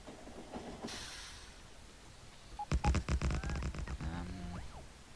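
A train in a video game clanks into motion with a dense run of rhythmic metallic knocks and squeals after a quieter stretch, fairly close and fairly loud, with no talking.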